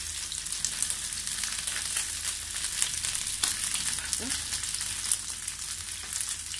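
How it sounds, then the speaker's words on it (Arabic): Chicken sizzling in hot oil in a pan as it browns to golden, cooked for an aubergine maqluba; a steady, close crackling fry fills the whole stretch with no talk. "والان ها هو الدجاج تحمر"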